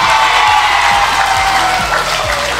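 Loud, sustained applause from a large audience at a public speech about hospital funding in Baseco, steady clapping with some cheering running through the whole stretch.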